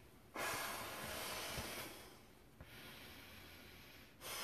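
Long breaths are blown into an inflatable travel pillow, each a steady, breathy rush of air lasting a couple of seconds, close and moderately loud, with short gaps between breaths.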